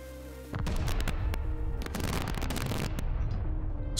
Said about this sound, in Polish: Trzy wybuchły, jednego trzeba.